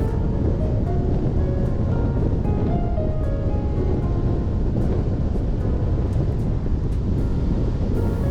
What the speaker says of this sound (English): the road turned, so I got side wind and had to slow down considerably